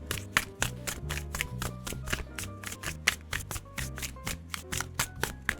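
Tarot cards being shuffled for a tabletop solo role-playing game, a quick, close run of crisp riffling taps and flutters that repeat steadily.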